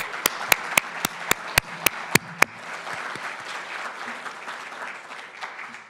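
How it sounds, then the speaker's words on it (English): Conference audience applause at a financial inclusion event, opening with nine sharp, evenly spaced rhythmic claps over a crowd clapping, then settling into steady, fairly loud sustained applause. "Can I get an applause?"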